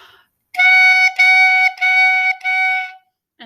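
A bright, buzzy reed tone from a mouthpiece and reed blown hard in four sustained bursts of roughly equal length, separated by brief tongued breaks, loud and close.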